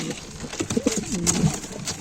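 A pigeon coos close by in a short, soft burbling phrase, with faint background noise and no talking.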